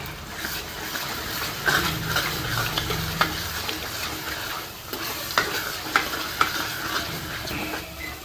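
Green chickpeas tipped into a hot pan and stirred, a loud continuous sizzle with repeated scraping and clacking of the spoon against the pan, close by and with no talk.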